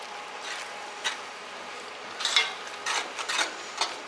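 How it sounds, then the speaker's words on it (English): A spoon scrapes and stirs melted sugar with toasted pine nuts in a pan on a stove in rural France, making soft, close rasping strokes that come in irregular bursts over a steady low hiss. "I'm just gonna give it a stir because the sugar's melted"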